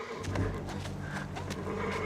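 A spooked horse whinnies loudly and close, a long wavering neigh with some hoof clatter, with a voice faintly in the background.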